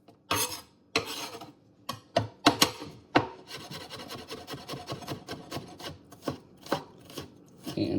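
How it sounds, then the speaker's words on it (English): Garlic cloves crushed with a knife on a cutting board while cooking eggplant parmesan: a series of sharp, close thumps and scraping rasps, with a denser stretch of rubbing and crackling in the middle, no talking. "I do like doing crushed garlic. Just with a knife."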